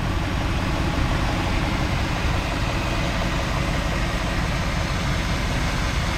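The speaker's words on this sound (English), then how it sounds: "Alright, it's been sitting here idling for a little while." A 1966 Ford Galaxie engine idles evenly and continuously at close range, a loud steady rumble with no voices over it.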